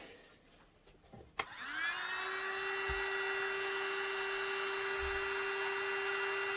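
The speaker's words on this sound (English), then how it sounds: "just get the hot air gun on it. Just softens the old grease up." A hot air gun switches on partway through and blows with a steady, loud whirring drone while softening old grease on a BSR UA14 record deck under restoration. A few soft handling knocks come just before it starts.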